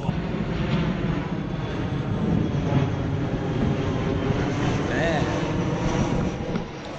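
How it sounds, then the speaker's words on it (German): An airplane comes in to land very close by near Eindhoven Airport, its engine roar loud and steady for the whole stretch, swelling slightly toward the end, with faint voices underneath. "Ich glaube, das Flugzeug ist ziemlich nah."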